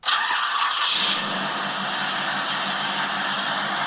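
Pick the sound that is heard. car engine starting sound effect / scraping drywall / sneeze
car engine starting sound effect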